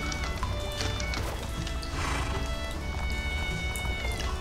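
Horses move about in Minecraft, their clip-clop steps pattering steadily through a dense, noisy background like falling rain, with no voice heard.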